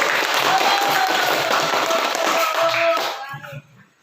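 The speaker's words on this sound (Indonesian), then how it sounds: "kasih tepuk tangan dulu kelompok 1" Pupils in a fourth-grade Islamic studies class clap for a group that has just told a story, a dense burst of applause that thins out after about three seconds into a few scattered claps and murmurs.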